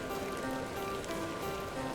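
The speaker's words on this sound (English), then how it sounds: "Started raining, of course." Rain beginning to fall in the video game The Excavation of Hob's Barrow, a dense steady patter spread across the whole sound, with faint tonal ambience beneath and no talking.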